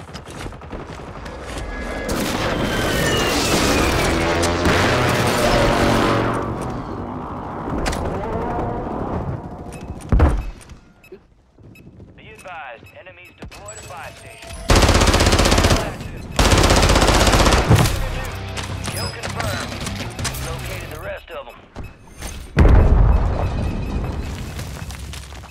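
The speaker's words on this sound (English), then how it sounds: "literally the entire lobby just shot at me right there" Heavy gunfire from many players at once in Call of Duty on Rebirth Island, loud sustained automatic bursts overlapping with explosions and booms, rising and falling in waves across the whole stretch.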